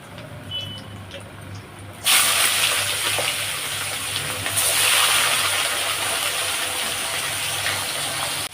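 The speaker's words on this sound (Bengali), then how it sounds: "আর বাদ বাকি মাছটা ভেজে নেব।" After a quiet start, a loud burst of sizzling erupts as rui fish goes into hot oil in a pan, then holds as a steady, close crackling hiss that surges once more midway.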